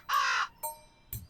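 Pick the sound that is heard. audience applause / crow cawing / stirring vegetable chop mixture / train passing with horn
crow cawing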